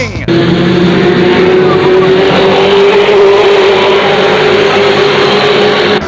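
ARTGO touring race cars roar past on a fast racetrack, a loud sustained engine drone with a rising pitch, close and continuous, and a voice talking over it.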